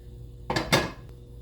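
A ceramic skillet knocked and set down in a kitchen, two close clattering knocks in quick succession followed by a faint tap.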